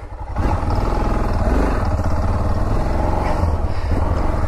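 A motorcycle engine idles and revs steadily up close, a continuous mechanical rumble with some clatter throughout.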